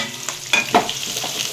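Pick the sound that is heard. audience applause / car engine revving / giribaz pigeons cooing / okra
okra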